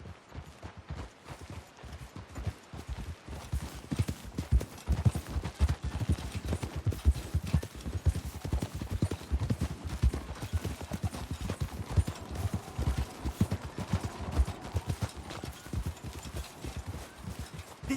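Horses' hooves clip-clop in Red Dead Redemption 2, a dense, continuous rhythmic pounding that stays loud and close throughout.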